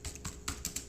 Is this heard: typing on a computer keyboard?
yes